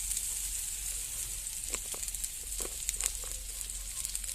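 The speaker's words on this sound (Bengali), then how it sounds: "হালকা একটু ভেজে নেব মাছ ভাজা তেলের ভিতরে দিয়ে দিয়েছি" Constant hissing sizzle of fish frying in mustard oil on a new village stove, with scattered soft pops and crackles over the steady bubbling.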